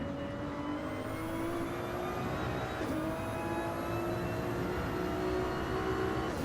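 Ferrari race car in a sim racing game at Interlagos, a steady engine whine holding pitch with a brief dip midway, continuous and alone.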